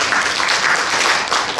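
Audience applause at a Korean safety culture academic conference after a paper presentation, a dense steady wash of many hands clapping in a hall, loud and sustained.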